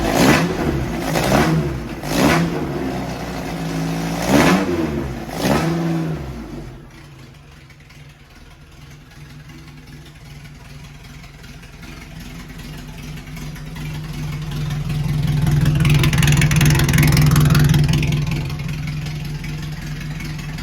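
An Alfa Romeo 1750 engine cranks and fires, then gives several sharp throttle blips before settling into a steady idle that swells into a longer, sustained rev, all heard close up.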